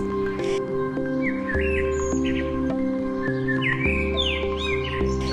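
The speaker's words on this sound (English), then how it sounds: "stepped out to the sound of birds" Morning birdsong in the Similipal forest: several birds chirp and trill in bright, overlapping bursts over a steady background of soft sustained music-like tones.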